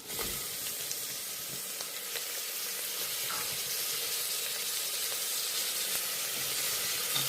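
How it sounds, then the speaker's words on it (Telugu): Tomatoes fry in a pan with green chillies and curry leaves for bagara rice, a faint, steady hiss and light crackle throughout, quiet and unbroken by speech. "టొమాటోస్ వేసుకుని ఇది కూడా కొంచెం వేగేదాకా వేగించుకుందాం."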